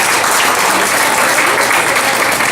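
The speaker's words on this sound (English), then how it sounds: "So y'all please give her a round of applause because this is her job." Audience applause at a live evening event, a dense, steady wash of clapping filling the whole stretch at close range and high volume, with no breaks or voices standing out.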